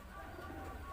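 A Madura racing pigeon coos softly in a low, steady murmur against a quiet background hum.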